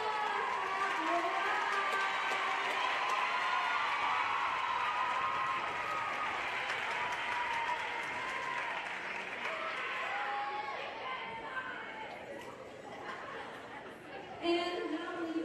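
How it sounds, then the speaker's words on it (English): Sustained crowd applause fills a women's college gymnastics regional championship arena, loud and steady before gradually thinning out, with an announcer's voice over it. "Let's have one more round of applause for Rhode"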